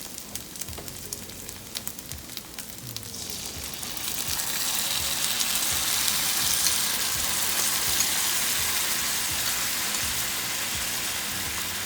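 Teriyaki sauce pours onto chicken in a hot pan, and the quiet frying swells into a loud, steady sizzle that holds to the end with no talking.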